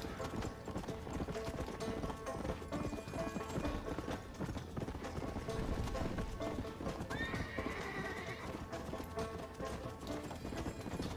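Galloping war horse from Red Dead Redemption, with steady clip-clop hooves and a whinny amid a busy game soundscape, loud and continuous throughout.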